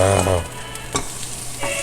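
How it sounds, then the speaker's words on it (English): Christmas ham sizzling and frying loudly in hot oil, a close, steady crackle with a brief stirring clatter partway through. "Slap on the Christmas ham. Do not burn yourself on the oil because heat is hot."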